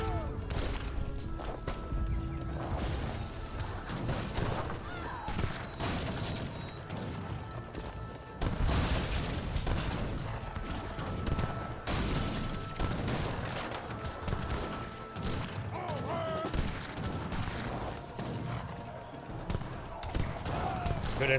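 Leather cannons firing in a siege battle in the strategy game Age of Empires 3, a dense barrage of booming shots and gunfire running continuously beneath a commentator's voice.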